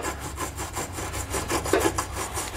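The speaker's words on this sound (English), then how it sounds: "we're gonna take a wire brush and run that up through there a couple times to clean them out" Wire brush scrubbing out the weld nuts inside the frame of a 2017 Nissan Pathfinder, a steady rhythmic back-and-forth rasping of bristles on metal, close and continuous with no talk.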